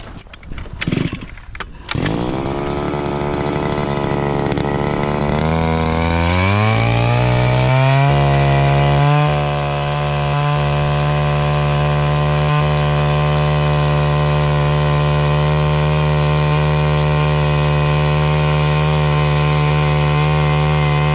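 A motorized ice auger starts up and drills holes in lake ice for perch fishing, its engine revving from a sputter into a loud, sustained high whine that holds steady for a long stretch.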